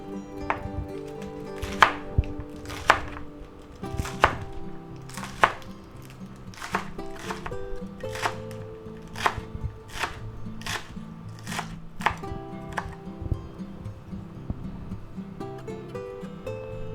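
Kitchen knife trimming the ends off vegetables on a cutting board, a series of sharp, distinct chops at an uneven rhythm, close and clear, with a quiet background hum.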